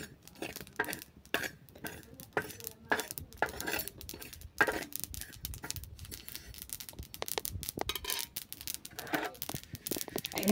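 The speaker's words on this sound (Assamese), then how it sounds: "তিলখিনি মই এনেকৈ ভাজি লৈছোঁ দেই আৰু পূৰা ফুটিছে তিলখিনি" Sesame seeds roast in a pan, giving a dense run of sharp pops and crackles with scattered louder snaps throughout.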